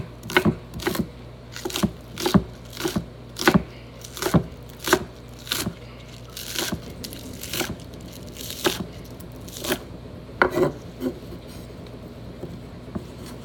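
Three fresh green onions being chopped on a board: a steady series of crisp, close knife strikes at an even rhythm for about thirteen seconds, with a few softer scrapes between them and no talk.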